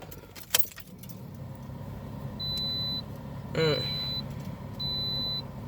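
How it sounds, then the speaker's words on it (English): A steady electronic beep tone sounds in three spaced bursts over a quiet background, after a brief jangle of keys and a short rising chirp. "Sorry for that little alarm thing going off."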